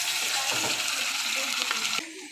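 Onion, ginger and garlic paste hits a hot pan and sizzles loudly and steadily while fig and potato curry is being made, with light stirring clatter before the frying noise drops off.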